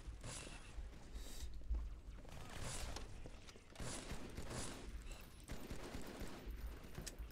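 Bursts of rapid gunfire in Halo 2's Outskirts level crackle in quick volleys with short gaps between them, fairly faint, mixed with mechanical clatter of game action.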